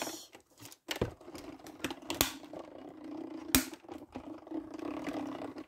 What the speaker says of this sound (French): Je passe dans ma machine. Et je vais découper.